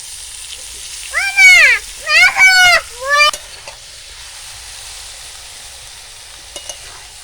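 Chopped chicken spare parts go into spicy masala in a village-style pan, giving a steady close sizzle, while several loud, rising-and-falling chicken calls ring out over it near the start.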